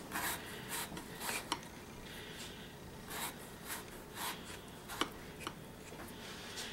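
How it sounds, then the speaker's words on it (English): Knife blade cutting repeatedly into a raw potato for hasselback potatoes, a series of soft, close scraping and rasping strokes with a few sharper clicks against the board, no talk. "That first cut, because the potato's kind of curved, you may have to just eyeball it and not cut all the way down."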